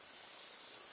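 A brief, faint, soft rubbing hiss as gold leaf foil is rubbed onto a crafting piece, heard up close and alone.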